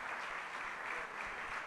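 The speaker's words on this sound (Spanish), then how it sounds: "Un abrazo y un aplauso grandísimo para ustedes." Audience applause at an open community talk at the Casa de las Madres, a steady, soft patter of clapping from a group that holds evenly throughout without voices.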